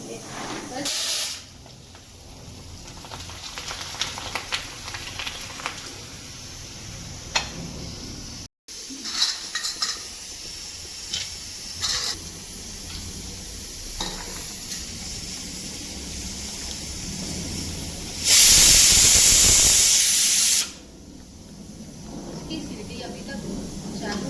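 Hot oil hisses in a home kitchen pan, a soft steady hiss with scattered clinks of utensils and a brief loud burst of sizzle near the end, while someone talks throughout.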